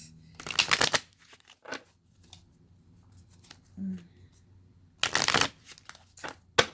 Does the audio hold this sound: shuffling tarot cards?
yes